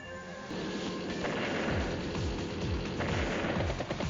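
Firestorm power attack in the Advance Wars: Days of Ruin video game, heard as a loud, dense run of rapid explosive bursts and rumbling blasts that repeat steadily for several seconds, with no voices over them.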